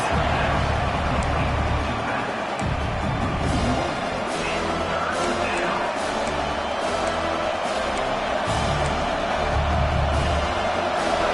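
Home crowd at a Georgia football game roaring during a third-down defensive stand, a dense, sustained wash of stadium crowd noise with faint cheers and whoops rising through it.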